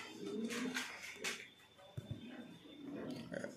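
Fancy pigeons in a loft, including a Pomeranian pouter, coo in low, rolling bursts close by, with a few brief clatters and background voices talking.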